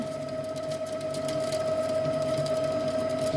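An All Cook kitchen robot whipping egg whites at speed 8 gives a steady, even mechanical whir with a constant motor tone, moderately loud and unbroken throughout.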